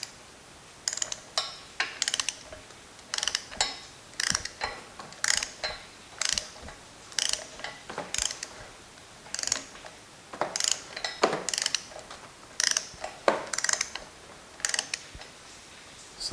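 A ratchet wrench tightens a bolt on a Porsche 911SC crankshaft assembly, giving close, crisp clicking bursts stroke after stroke in an uneven rhythm, with short pauses between pulls.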